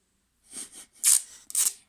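Adhesive tape pulled off the roll in short crackling rips, two softer pulls followed by two louder, sharp tearing bursts, close and alone.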